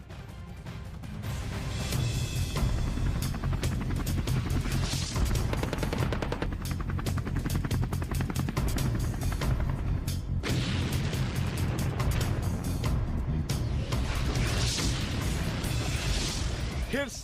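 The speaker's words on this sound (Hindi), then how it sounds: "रूस के रक्षा मंत्रालय ने K-52 एलिगेटर हेलीकॉप्टर का एक नया वीडियो जारी किया है, जिसमें हेलीकॉप्टर घातक हमले करता हुआ दिखाई दे रहा है" A Russian Ka-52 Alligator attack helicopter fires in combat, rapid bursts of gunfire and booming blasts over continuous rotor and engine noise, loud and sustained.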